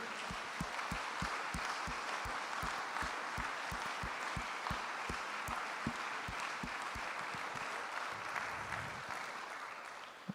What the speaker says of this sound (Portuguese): Você pode aplaudir o Senhor por tamanho poder?